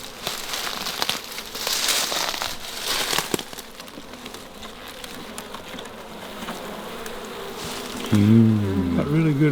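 Honey bees buzz in a dense, continuous hum as they are moved from a swarm trap into a hive box outdoors, with rustling and handling noises close by and a brief low voice near the end.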